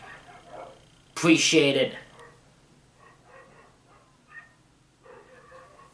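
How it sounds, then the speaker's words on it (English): Dog next door barking in a short loud burst of yips and barks, close and sharp, followed by quieter talking in the room. "There's a dog barking right next door to where I'm living"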